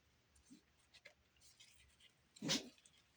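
A single short sneeze near the end, fairly close, after some faint scratchy rustling and quiet background sounds.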